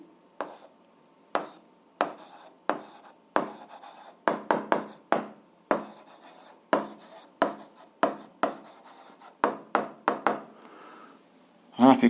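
Chalk or a marker taps and scratches across a classroom board while writing out a graph for an algebra exercise, in sharp uneven strokes and clusters that repeat steadily with no pauses for speech.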